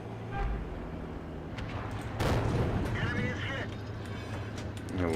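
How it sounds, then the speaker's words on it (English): High-explosive tank shells fire and burst in a tank battle video game with Jagdtiger and Cromwell tanks. One heavy blast stands out midway over a constant engine rumble, with lighter thuds around it. "So he's shooting HE at me."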